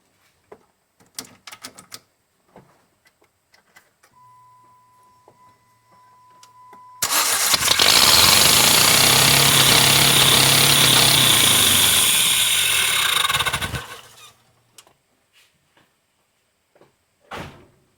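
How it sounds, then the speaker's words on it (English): Saturn SL1 engine cranking and catching, then revving with added throttle in a loud sustained roar for about seven seconds before shutting off, with scattered handling clicks and rustles before and after. "I'm going to start the car and I'm going to give it a little bit of throttle, and we'll see what blows out of there."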